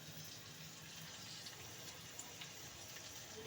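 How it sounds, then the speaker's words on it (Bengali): Water from Bombay duck fish, along with the fish, poured into a cooking pan, giving a soft, steady gushing wash that continues evenly and quietly throughout, with no talking. "ওই লোটে মাছের জলটা রয়েছে এবং মাছও রয়েছে ওর মধ্যে ওটাও আমি ঢেলে দিলাম"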